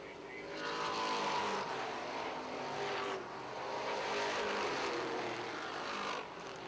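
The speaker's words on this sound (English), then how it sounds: "Robin Wood is able to pull away on the front stretch and on the backstretch" Modified race cars roar around the Airborne Speedway oval, a loud, continuous engine drone that swells and dips as the pack passes.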